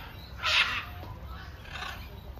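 Crows caw in a park, two harsh calls spaced about a second apart, moderately near over a low background hum.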